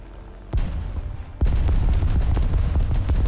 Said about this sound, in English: It's like a carpet bombing.